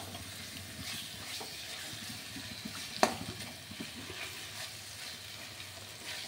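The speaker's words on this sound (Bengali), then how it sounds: "এবার আমি এটাকে নাড়াচাড়া করছি।" Goat meat frying in a pan with little oil while being stirred, a soft, quiet sizzle that runs on steadily, broken once by a sharp clink of the utensil against the pan.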